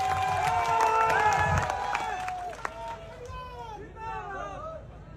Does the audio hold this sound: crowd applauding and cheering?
yes